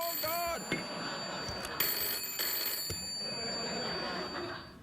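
Telephone ringing on a late-night talk show, a few bright trilling rings standing out against background chatter and studio noise.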